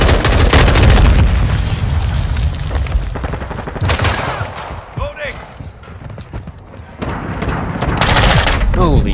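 Submachine gun fire rattles in loud, rapid bursts during a Modern Warfare 2 multiplayer match, with pauses between volleys, other game sounds and people talking over the shooting.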